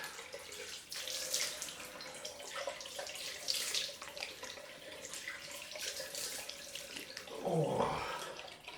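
Cold tap water runs steadily into a sink for a rinse after a head shave, a continuous close splashing flow with small changes as the water is disturbed, and a short rising swirl near the end; nobody speaks.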